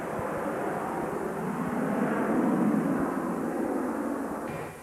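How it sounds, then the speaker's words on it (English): A Harrier jump jet flies at an airshow display, its engine a broad, steady roar that swells gently and then begins to fade, heard at a distance with no talk. "Ray Coates is in his 3rd year of displaying the Harrier"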